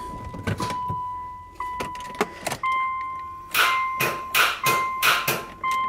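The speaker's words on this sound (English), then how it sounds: "Sounds like the starter's hitting something." Starter motor on a Subaru Legacy GT wagon cranking and striking something, heard as a series of short, loud, whirring cranking bursts with clunks, repeating faster toward the end, close up and without talk.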